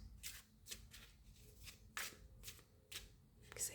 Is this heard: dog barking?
no